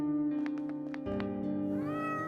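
A person imitates a cat's meow for a OneShot game character, giving a few short, close mewing calls followed by a longer drawn-out meow, voiced clearly with no other talk.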